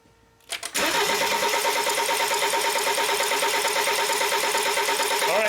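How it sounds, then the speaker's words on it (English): After a brief click, a BMW X3 with a no-start fault cranks continuously, its starter spinning the engine in a loud, even, pulsing churn up close without the engine catching. "Okay, crank it."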